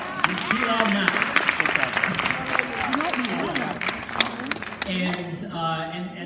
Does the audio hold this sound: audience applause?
yes